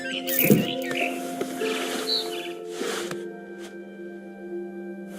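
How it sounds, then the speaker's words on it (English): A barn swallow chirps outside a window in the video game What Remains of Edith Finch, giving short high tweets over a layered game soundscape with steady tonal music and ambience. "Then I heard chirping outside my window. It was a barn swallow going back to her nest."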